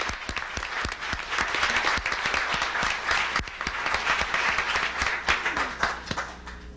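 An audience applauding at a 1991 national environmental leadership summit, a full, continuous clapping crowd with many sharp individual claps standing out close by, lasting nearly seven seconds.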